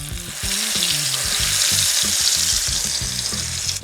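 Potato latkes frying in hot oil inside a ring mold, a loud, crackling sizzle close by with rhythmic scraping and stirring sounds over the top, no talking.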